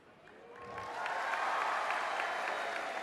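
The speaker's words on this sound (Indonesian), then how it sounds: "kita tutup gerakan itu dengan tepuk tangan yang meriah" Audience applause at a presidential debate, quiet and distant, swelling after a moment into a steady, even clatter of many hands.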